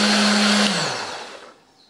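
Blender grinding chili, turmeric, candlenut, shallots, garlic and coriander into a paste, a loud steady motor whir that cuts off and spins down to silence within about a second.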